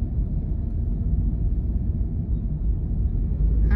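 Slow, heavy road traffic heard from inside a moving vehicle as a constant low rumble, moderately quiet and even throughout, with a brief higher rustle near the end and no talking.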